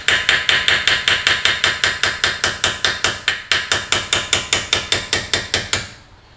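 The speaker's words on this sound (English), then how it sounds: "So for the pins, I have a couple of different hammers." A hammer taps out brake caliper pins on a Nissan GT-R, delivering a fast, even run of about twenty sharp metallic strikes close up, each ringing briefly before a final decay into quiet.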